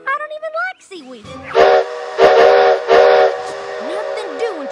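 GSMR #1702, a steam locomotive, gives three loud, close whistle blasts in a row, each followed by hissing steam, with a voice heard before and after them.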